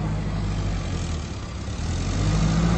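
Forklift engine running steadily at close range, a continuous low rumbling drone that swells slightly toward the end, with no talk over it.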